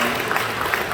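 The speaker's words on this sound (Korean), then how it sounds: "여러분들 환영하며 박수해 주시죠" A church congregation breaks into a brief, dense burst of applause welcoming two first-time visitors.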